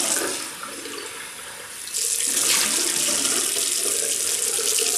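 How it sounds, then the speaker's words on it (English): Tap water runs steadily into a sink during a barbershop shaving routine as the face is rinsed, a close, continuous splashing hiss that swells louder partway through, with no talking. "I'm just going to rinse my face with water."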